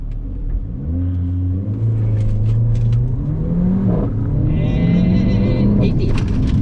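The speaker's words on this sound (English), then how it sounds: "I'm going to accelerate all the way to 80, foot hard down." A Mercedes GLA45 AMG on Goodyear Eagle F1 SuperSport tyres accelerates hard to 80 with the throttle floored, its loud engine note climbing through rising revs and gear changes.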